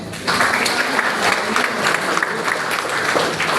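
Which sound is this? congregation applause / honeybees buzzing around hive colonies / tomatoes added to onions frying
congregation applause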